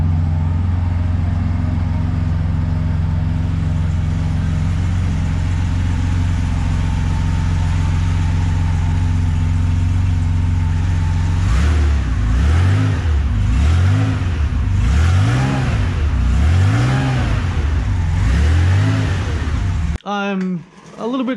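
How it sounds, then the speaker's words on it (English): A Porsche 911 with a modified exhaust idles with a deep steady rumble, then revs repeatedly in rising and falling surges before cutting off, loud and close. "So here's a quick clip of what it sounds like now."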